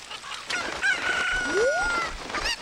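A chicken from the Ocarina of Time video game crows and clucks up close, a drawn-out crowing call followed by a rising squawk, with short clucks around it and no voices.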